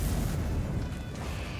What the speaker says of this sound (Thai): โดนระเบิดตรงพื้นนะ